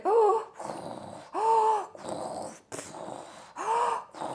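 A voice imitates snoring as part of a description of disturbed sleep: rasping, gasping snore sounds come in four bursts of roughly half a second each, close and loud, with quieter breathy gaps between them.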